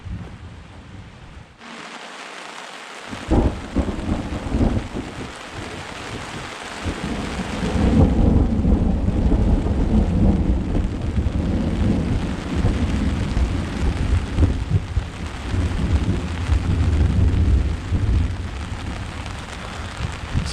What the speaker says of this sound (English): There's the thunder. Big one. Yeah. It's raining pretty hard now.